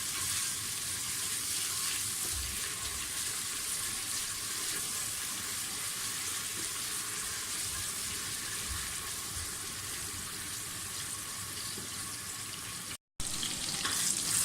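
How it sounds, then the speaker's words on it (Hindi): Onions frying in a pan for palak gosht give a steady, close sizzle that runs unbroken under light stirring, with a brief dropout near the end and no talk. "प्याज को हम फ्राई करेंगे।"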